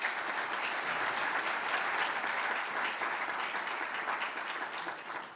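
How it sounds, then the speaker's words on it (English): A conference audience gives a sustained round of applause for speakers at an afternoon session, dense steady clapping filling the room throughout and tapering slightly at the end. "Please give them all a big round of applause."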